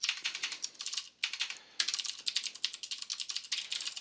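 Rapid typing on a computer keyboard during game programming, a close, steady patter of key clicks with one short pause and no voices.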